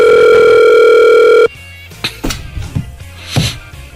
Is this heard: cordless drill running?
no